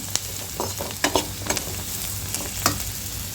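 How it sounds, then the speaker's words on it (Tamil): Spoon stirring turmeric masala in a pan for a sardine fish curry, with a steady low sizzle and a handful of sharp scraping clicks spread across the stretch, close and fairly loud. "நல்லா ஒரு 2 நிமிஷத்துக்கு 1 நிமிஷத்துக்கு கிளறி விட்டால் போதும்"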